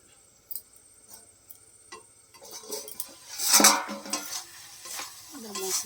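Spices being fried in oil for a rohu-type fish curry with cauliflower, a quiet start giving way to sizzling with spoon scrapes and pan clatter from about the midpoint, close and moderately loud.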